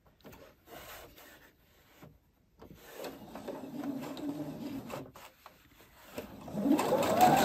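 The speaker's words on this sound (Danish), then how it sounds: "nu syr jeg så med en centimeter sømmerum" A sewing machine stitches a French seam in fabric with a 1 cm seam allowance, a steady mechanical whirr and rub that starts, pauses briefly, then runs continuously and grows louder near the end; no speech.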